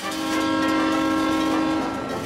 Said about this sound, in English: It means the train is gonna pass soon.